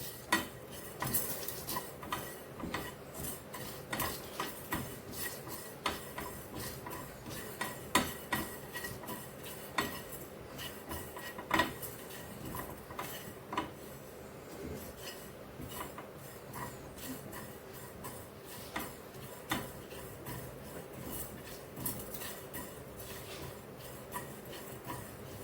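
Whole spices for a raw mango pickle dry-roast in an unoiled pan, with steady metallic clinks and scrapes from stirring against the pan, close and moderately quiet with no talking.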